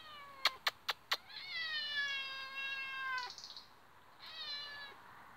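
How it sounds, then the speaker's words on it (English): An old cat meows repeatedly at a wildcamp, a few sharp short calls followed by long drawn-out wavering meows, fairly close and clear with no talking. "the old cat keeps hanging about"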